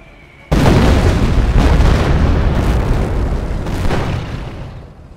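A loud rocket barrage in the video game Company of Heroes that erupts suddenly into a sustained roar of overlapping explosions, holding for several seconds before slowly fading.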